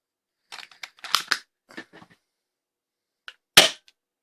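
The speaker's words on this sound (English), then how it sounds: "Let me try a couple more X-shot dart in this thing, just to see." Phantom Tech Little Hamster blaster shooting X-Shot darts: a cluster of sharp clicks and snaps early, then a single crisp, loud pop near the end, each short and close-up against silence.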